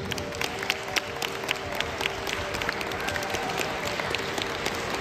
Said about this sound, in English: applause for Richard